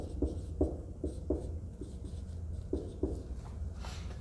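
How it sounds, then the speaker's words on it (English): Hand writing during a chemistry lesson on relative strength tables, with short scratchy pen strokes in an irregular rhythm, close and quiet, no talk. "So I'm going to write it below like this."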